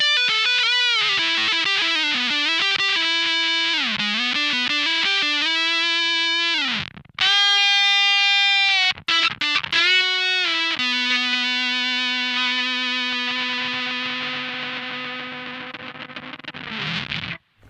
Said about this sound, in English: I think the neck pickup and a Big Muff pedal are some of the best lead guitar sounds you can possibly get